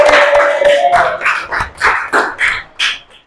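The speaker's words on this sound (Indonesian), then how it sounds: "Tepuk tangan." A class of pupils claps hands in a quick rhythmic burst, a run of sharp close claps that speeds up, with a brief voice at the start.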